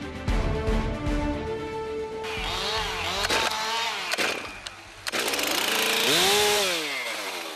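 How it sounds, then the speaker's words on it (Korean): A chainsaw on a logging site among forty-year-old larch trees, its engine revving up and down and whining loudly through repeated rises and falls, close by, with no talking. "톱에 시동을 걸고 본격적인 작업을 시작합니다"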